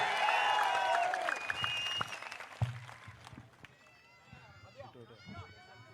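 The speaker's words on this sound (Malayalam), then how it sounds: "വടകരയുടെ കരുത്തുള്ള ഒരു കയ്യടിയോടെ പിഷാരടിയെ നമുക്ക് ഒരിക്കൽ കൂടി വേദിയിലേക്ക് സ്വാഗതം ചെയ്യാം" An audience at a youth conclave in Vadakara claps loudly for a speaker walking onto the stage. The applause is dense at first, then thins into scattered claps while someone speaks over it.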